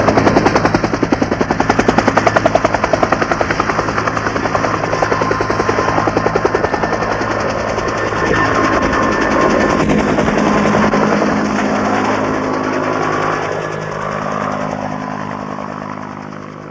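Military helicopters at a besieged camp at Ben Het in 1972, with a loud, continuous rotor thump and engine roar close by that stays steady throughout and eases slightly near the end.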